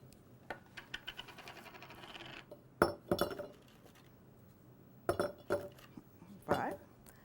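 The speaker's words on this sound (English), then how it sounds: "So we're going to start out by putting 5 Oreo cookies" Five Oreo cookies drop one after another into a glass jar, giving separate clinks and knocks spread across several seconds, close and moderately loud, with faint rustling between.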